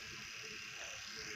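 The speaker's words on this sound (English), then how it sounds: "motor is moving counterclockwise" Small DC motor under microcontroller control spinning counterclockwise, a faint, steady electric whine and buzz held evenly for a brief moment.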